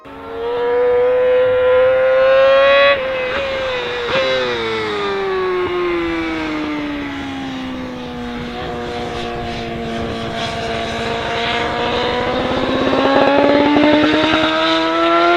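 A loud, close engine revs with a tonal whine, its pitch climbing, dipping, then rising again in sustained sweeps.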